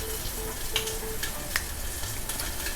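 Rack of lamb fries in a pan with a continuous close sizzle and crackle, small pops and spits breaking through now and then, no voices.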